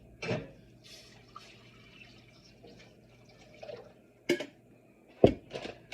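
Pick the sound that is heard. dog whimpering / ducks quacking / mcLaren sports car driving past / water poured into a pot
water poured into a pot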